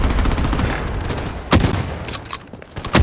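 Rapid gunfire crackles in the shooter game Bloodstrike with an M1887 shotgun, giving a dense run of shots over the first second and a half, then two sharp loud blasts with scattered smaller pops between them.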